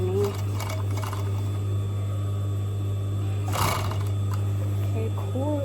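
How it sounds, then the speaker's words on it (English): Overlocker sewing machine stitching a shoulder seam through four layers of denim, a steady loud motor hum running throughout, with a brief burst of noise midway and faint talk in the background. "I hope I don't overlock things wrongly underneath"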